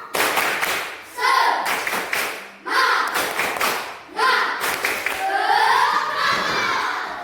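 A group of children in a classroom performs a rhythmic spirit clap in bursts, sharp patterned claps and thumps separated by short pauses, with shouting and cheering voices rising between the rounds.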